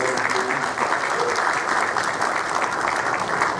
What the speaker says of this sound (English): round of applause for Rhoda.